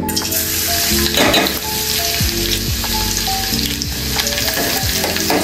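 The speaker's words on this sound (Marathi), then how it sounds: "आता मी ह्याच्यामध्ये 7 ते 8 लसणाच्या पाकळ्या ठेचून टाकणार आहे।" Seven or eight crushed garlic cloves fry in two spoonfuls of hot oil, giving a loud, dense, continuous sizzle close up with a few stirring scrapes. No voices are heard.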